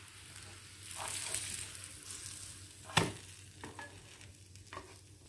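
A bread cheese pudla sandwich being gently moved around on a hot pan. A low sizzle sits under soft scrapes, and one sharp knock comes midway.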